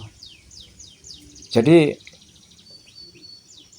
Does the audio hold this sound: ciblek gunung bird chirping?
yes